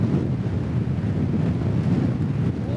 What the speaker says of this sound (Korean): 와 바람 엄청 세다